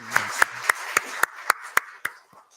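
A church congregation claps at a Sunday worship service in a rhythmic, evenly spaced beat of about nine loud claps that fades at the end.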